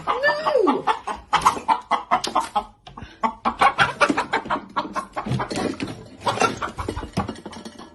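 Chicken clucking in a home, a busy run of short, choppy clucks with a rising squawk at the start, close and fairly loud, continuing steadily with no talk over it.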